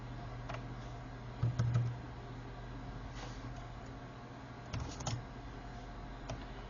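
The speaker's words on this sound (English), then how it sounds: "Keyboard does work." Keys on a Toshiba Satellite L755 laptop keyboard are tapped in a few short clusters of clicks, close and fairly soft over a steady low electrical hum.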